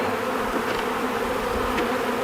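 Honeybees buzz steadily at an open hive during a first inspection after a cold Texas winter, a dense, continuous, loud drone of many wings close by, with no talking.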